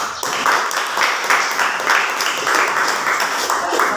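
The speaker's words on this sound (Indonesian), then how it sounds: "Tepuk tangan." Applause from a small group fills the room, a steady patter of many hands clapping at moderate volume, no voices.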